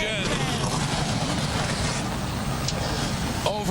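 A 28-car field of modified race cars rumbles at the start, a dense, continuous roar of many engines mixed with wind buffeting and a loudspeaker voice.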